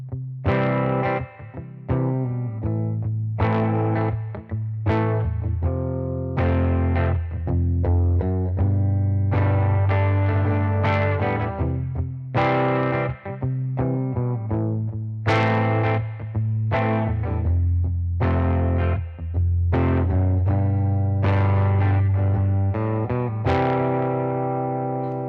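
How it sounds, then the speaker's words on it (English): Distorted electric guitar plays a driving rhythm with palm-muted chugs broken by ringing accented chords, loud and continuous with effects and a touch of reverb, no talking. "we're going to add palm muting so that we can really emphasize those accents"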